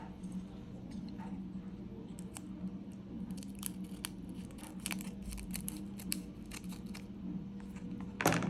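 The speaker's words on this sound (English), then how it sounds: "I'm just going to take my scissors and trim off that excess." Scissors snip repeatedly at excess material on an LED clock kit, giving a run of sharp, close, crisp cuts in an irregular rhythm over a steady low room hum.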